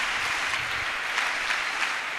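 A church congregation applauds together in a dense, steady wash of clapping that stays even throughout, with no voices standing out.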